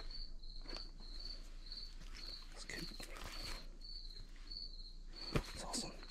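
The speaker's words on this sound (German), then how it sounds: "Oh, diese Grillen." Crickets chirp steadily outdoors at a flea market, an even high-pitched pulsing trill repeating about twice a second, moderately distant and soft, with scattered faint clicks and rustles underneath.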